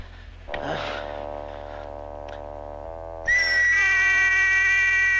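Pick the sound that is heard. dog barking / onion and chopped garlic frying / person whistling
person whistling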